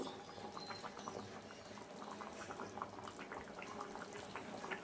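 Chicken and potato curry broth boils in a pot, a faint, steady bubbling and gentle popping heard close by with no talk.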